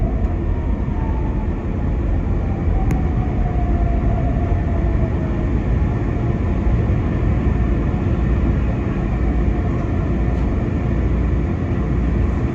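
Market-Frankford Line subway train riding from the head end, with a loud, continuous rumble and a faint rising wheel whine.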